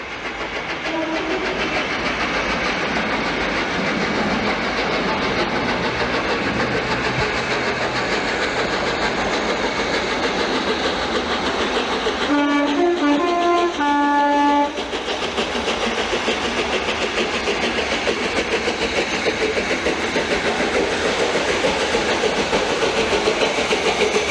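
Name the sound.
steam locomotive Duke of Gloucester emerging from tunnels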